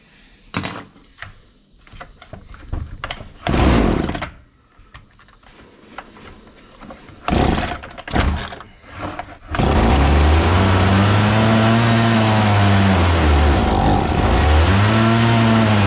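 A Husqvarna 236 chainsaw engine with a carburetor problem sputters and bursts in short uneven revs, then catches and runs loud and steady, its pitch rising and falling as the throttle is worked up and down.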